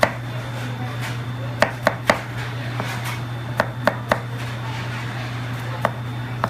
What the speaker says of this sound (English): I'm going to take my knife and chop through it into bite-sized pieces.